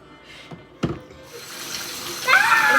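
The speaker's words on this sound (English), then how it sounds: "we're going to use this Amway soap to wash the cauliflower" Tap water runs into a sink while cauliflower is washed with Amway soap in a home kitchen, the flow starting softly and swelling into a steady, louder splash toward the end after a brief clunk.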